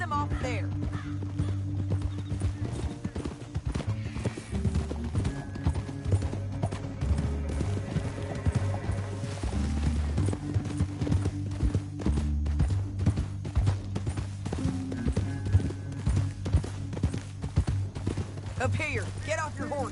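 Horses ridden through a canyon in a western film, hooves clip-clopping in a steady rapid rhythm throughout, with a horse whinnying near the end, all set against a low sustained musical score.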